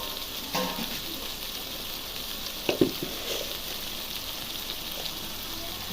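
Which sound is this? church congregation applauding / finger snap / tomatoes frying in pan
tomatoes frying in pan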